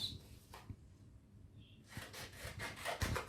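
Cutting out a paper squirrel tail template by hand, quiet near scraping and snipping bursts, sparse at first then denser toward the end, with no talk over them.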